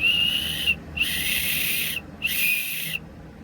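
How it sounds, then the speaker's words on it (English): A small survival-kit whistle with a rubber reed is blown in three short, shrill blasts separated by brief pauses, close and fairly loud. "Then this is the whistle part, and you see a little, like a rubber reed in there."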